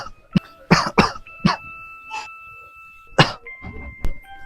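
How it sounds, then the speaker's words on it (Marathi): A person coughs several times in short harsh bursts at close range, with a faint electronic tone sounding in the background between the coughs. "काय नाही, नुसता खोकलाय."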